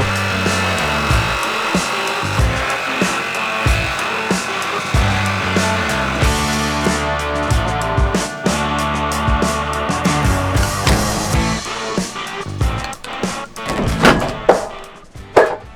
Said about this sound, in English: Drilled a little hole, ready for the jigsaw.